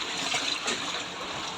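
Storm floodwater from a high tide in a Navotas street gushes and swirls in a steady broadband wash, near and moderately loud, lasting under two seconds with no voice.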